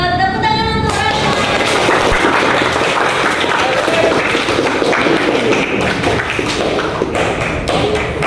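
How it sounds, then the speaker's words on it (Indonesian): Loud, sustained applause from a classroom of students fills the whole stretch, dense clapping with thumps and scattered voices beneath it, a brief tone sounding at the start. "Tepuk tangan untuk Rano."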